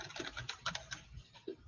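Keys clattering on a computer keyboard while code is written: a steady run of close, light clicks at an uneven pace, with slightly heavier taps now and then and no voices.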